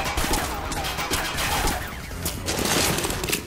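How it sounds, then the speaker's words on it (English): Gunfire in the MindJack video game, a dense run of rapid shots and bursts crackling steadily for several seconds, loud and close, with faint voices underneath. "Uh oh. Being shot at."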